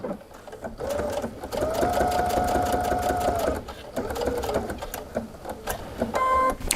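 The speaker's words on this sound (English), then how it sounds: "So we're going to get ready and we're going to start to sew." A home sewing machine with automatic pivot stitches a bag seam at a half-inch allowance, a steady close whirring run of needle strokes that pauses briefly and starts again, with a short burst at the end.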